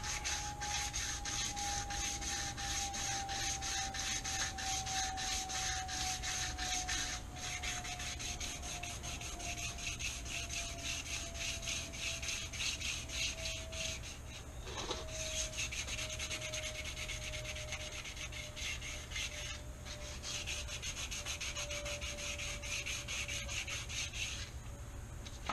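Steady abrasive rubbing of sandpaper on the wheels of a 2003 Honda Shadow 750 motorcycle, continuous and close, with a faint tone slowly gliding downward underneath and one brief knock midway.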